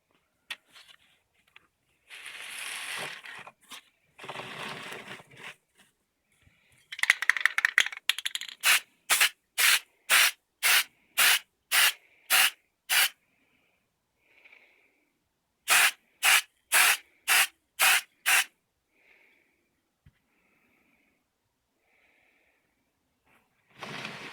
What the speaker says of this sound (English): And as I'm spraying this, I'm holding it about